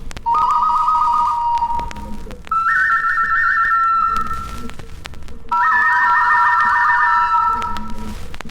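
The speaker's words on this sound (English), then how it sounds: "musical instruments were very delicately made works of art, like these whistles in the form of birds" Three bursts of warbling, trilling tones from an ancient American bird-shaped whistle, each about two seconds with short gaps between, bright and fairly loud with no talking.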